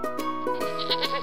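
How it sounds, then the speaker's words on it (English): A goat gives a short, wavering bleat, loud and close, heard alone without any voices. "G for goat."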